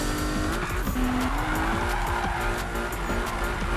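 In the Need for Speed 2015 racing game, a car slides on the handbrake, its tires squealing continuously over a roaring engine, loud and sustained throughout.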